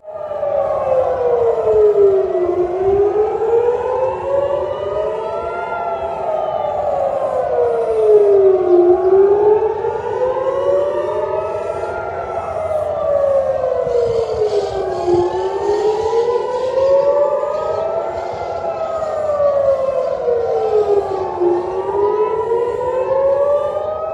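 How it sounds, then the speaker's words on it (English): Air raid sirens sound across Tel Aviv during a missile alert, loud wailing tones rising and falling in slow repeated cycles, several sirens overlapping, with no voices. "Sirens rang across the city."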